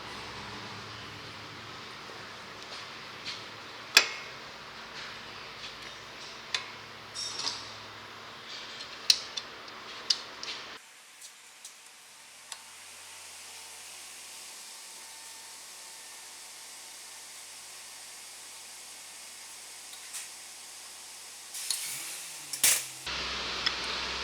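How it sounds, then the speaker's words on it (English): Brake caliper piston on a 2015 Subaru XV Crosstrek being pushed back with channel locks and a brake pad: several sharp metallic clicks and clanks in the first half, then a steady faint hiss and a few knocks at the end. "I'm going to collapse the piston a little more with channel locks and a brake pad."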